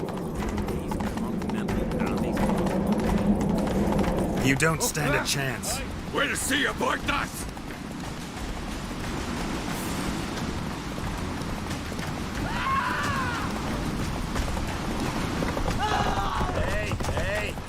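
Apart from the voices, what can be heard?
horse Roach galloping, hooves clip-clop, from video game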